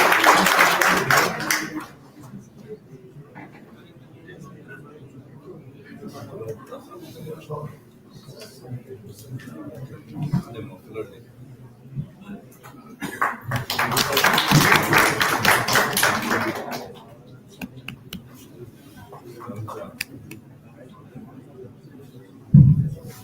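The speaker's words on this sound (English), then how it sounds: "A big round of applause." Audience applause breaks out at a workshop on generative AI in design thinking after a token of appreciation is presented on stage, with two loud bursts of clapping separated by quieter room noise and some murmuring.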